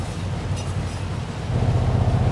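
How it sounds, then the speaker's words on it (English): A train in the driving game My Summer Car approaches with a low, steady rumble that swells louder partway through, with no talking. "especially when you have a train coming towards you"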